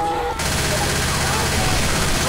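Rapid sustained gunfire in the video game Left 4 Dead 2, a dense, loud barrage of automatic shots that fills the soundscape after a brief quieter moment at the start.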